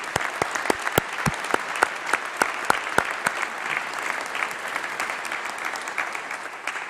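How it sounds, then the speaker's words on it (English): A graduation ceremony audience claps in a lively round of applause, dense and fairly loud, with a few sharp individual claps standing out near the front, no speech over it. "a huge round of applause for our student-led"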